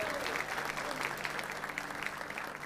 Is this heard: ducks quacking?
no